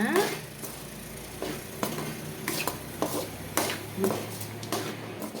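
Peanuts are stirred in a pan over low heat for Tamil-style peanut candy, with repeated scraping strokes and light clatter close by over a faint background.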